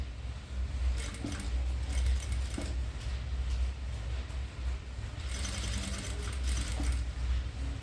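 A sewing machine stitches fabric for a frilled long dress, a low continuous motor whir with faint mechanical rattling, running steadily and quietly throughout.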